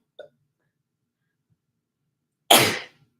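A single sharp, loud sneeze bursts out near the end, preceded by a brief tiny sound and otherwise near silence.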